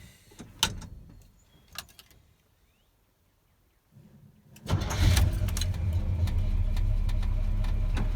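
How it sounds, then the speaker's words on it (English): A truck engine cranks and catches after a quiet pause, then settles into a loud, steady idle and running rumble close by, with a few clunks and door-like knocks beforehand. "Fire it up first and move it."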